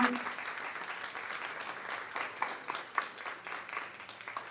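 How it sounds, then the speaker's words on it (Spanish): Audience applause at an academic ceremony honouring a secretary before an award is handed over, a steady dense patter of many hands clapping throughout, fairly faint and even with a few sharper claps standing out. "Le damos por favor ese fuerte aplauso"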